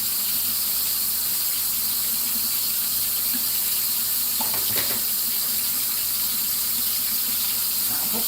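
A kitchen tap runs steadily while small pieces for decorating a birthday cake are rinsed under it, a constant close hiss of water with brief splashes partway through.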